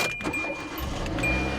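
A 2007 Hyundai Accent, an old and rough car with 108,000 miles, starting up: a jangle of keys, then the engine cranks and catches into a low, close rumble that keeps running inside the car.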